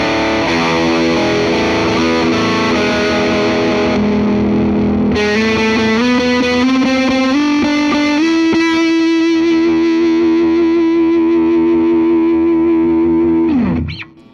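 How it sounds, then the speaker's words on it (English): A Gibson Les Paul electric guitar on its bridge pickup through distortion, with a bright, singing tone, plays sustained chords and held notes that ring out, then cut off abruptly at the end. "That bridge pickup sings under some distortion."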